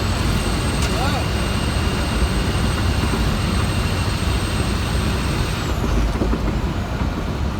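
A semi truck cruises at about 65 mph on the highway, its drone steady and loud from start to finish, with a high whine running above the road roar.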